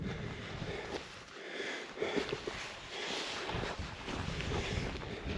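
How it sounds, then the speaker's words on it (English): Strong wind gusts on a mountain summit in the Cairngorms buffeting the microphone in a continuous rumbling roar, with no voices, only the rushing and flapping of open-air wind. "It's getting windy up here."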